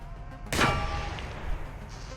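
A single loud gunshot in the video game Receiver 2 destroys a turret, a sharp close crack trailing into a short echoing decay over a low background hum.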